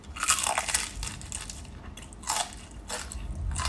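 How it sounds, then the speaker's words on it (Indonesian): Close, crunchy chewing of a fried snack, with crisp bites and crackles coming in uneven bursts, no talking. "Ini bisa ngunyah sampai pegel sih ya."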